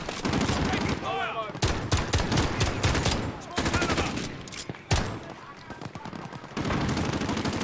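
Rapid bursts of automatic gunfire and machine-gun fusillades in an online shooter game, loud and near, coming in dense volleys with short gaps, while a voice talks over parts of it.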